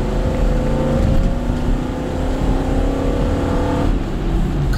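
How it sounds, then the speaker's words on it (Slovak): A Toyota Land Cruiser 100 with a V8 engine accelerates, giving a steady, loud, low engine drone with rising harmonics that holds throughout, heard from close by. "Prvý je taký veľmi príjemný V8-čkový soundtrack."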